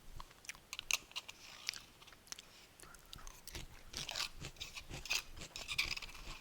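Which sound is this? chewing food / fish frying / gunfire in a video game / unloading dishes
chewing food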